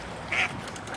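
A single short duck quack comes through faintly at a zoo, a brief nasal call over quiet background ambience.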